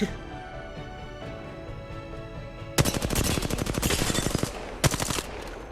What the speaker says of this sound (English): I am taking fire, friends. Listen up, I'm getting shot at.